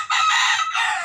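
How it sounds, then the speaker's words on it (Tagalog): A chicken cackles and clucks loudly and close by in one continuous burst with a brief break, heard alone during a bath for lice and mites. "Itong manok natin."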